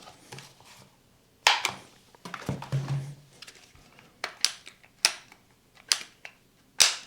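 The safety lock on a Parkside PDRA 20 Li D4 cordless pressure washer gives a series of sharp, close plastic clicks, irregularly spaced with short handling noises between them.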